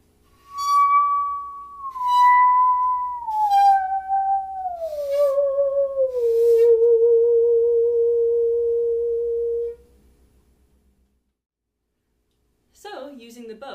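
A bowed musical saw plays Twinkle Twinkle Little Star, its pure wavering tone stepping down through the notes in long sustained glides, loud and close, then fading into silence before a brief voice at the end.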